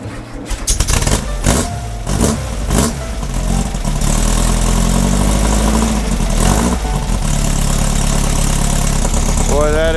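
A 1979 Ski-Doo Custom Baja Bug engine cranks over in several quick bursts, catches, and settles into a loud, steady, rumbling idle that continues up close for the rest of the time.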